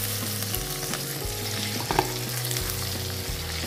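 Chicken liver fries in a pan with chicken for adobo, giving a continuous close sizzle with faint stirring scrapes and a brief louder spatter near the middle, over a low steady hum.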